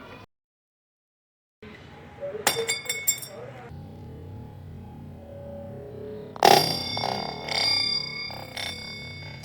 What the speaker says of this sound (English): So let's start our drop test with a waist height.